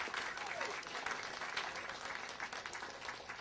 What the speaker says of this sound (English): Let's give a big, big round of applause for the great work